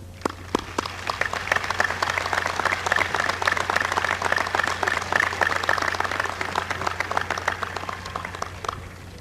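Audience at the 1990 Bellefontaine High School commencement applauds the graduates, sustained dense clapping from a large crowd in a hall, steady throughout and tapering near the end.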